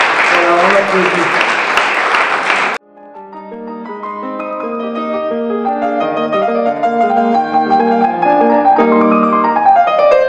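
A chess tournament audience applauds loudly for a pianist for under three seconds, then the clapping stops abruptly and piano music begins, building steadily in volume.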